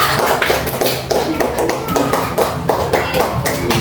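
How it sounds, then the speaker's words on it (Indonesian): A classroom of fourth-grade pupils claps for a group during a Qur'an lesson, lively uneven clapping with rhythmic loud beats, close and busy, with children's voices mixed in. "Tepuk tangan dulu untuk kelompok 5."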